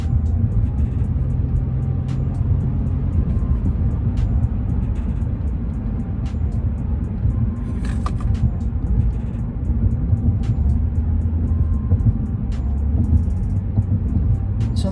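A car drives along a road with a steady low engine and road rumble throughout, a heavier, slightly sluggish car cruising at a constant pace with faint intermittent ticks above the drone.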